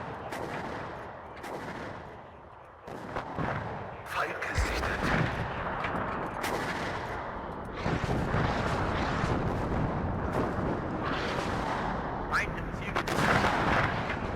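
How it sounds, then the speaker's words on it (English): Heavy artillery barrages pound enemy positions in the Cold War real-time strategy game WARNO, with dense, continuous booming and crackling explosions rolling over one another for the full stretch, loud and sustained with sharp impact bursts throughout. "I'm just gonna start smashing all those positions with my artillery"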